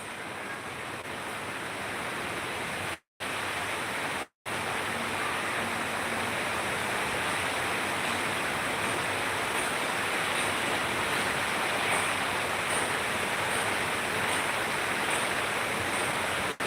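Sudden rain falling outside, a steady broadband hiss that holds level and continuous throughout, like a close downpour, with two brief dropouts and no talking.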